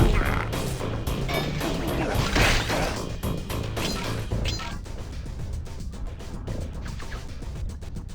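Heavy metal furnace doors slam shut inside a Sly Cooper stage, a loud crashing thwack over busy game music and clanking machinery, with a few sharper impacts near the middle and several quick knocks toward the end.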